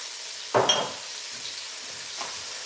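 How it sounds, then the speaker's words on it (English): Onions frying in oil in a pan for a Nigerian dish, with a brief sizzle burst as they are stirred, then a low steady hiss of the pan, with no voices. "until the onions fries. And make sure that it does not burn"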